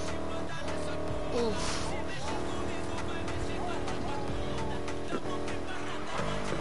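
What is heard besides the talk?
car drifting in video game Need for Speed Heat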